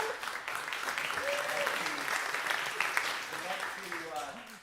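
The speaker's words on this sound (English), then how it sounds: "I want to give a big round of applause for Janet Hammer, beautiful and talented, an" Steady applause from a church congregation after a choir and soloist perform, a broad continuous wash of clapping with voices cheering and talking underneath.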